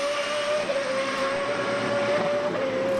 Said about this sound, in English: Just listen to the radical turbo.